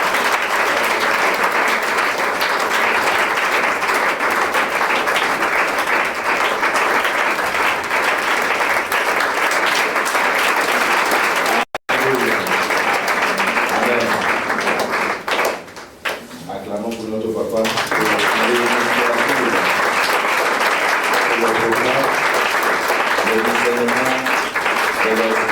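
A church congregation claps and cheers in sustained, loud, dense applause during an evening teaching service, continuing under a speaker's voice, with a short dip in the noise midway.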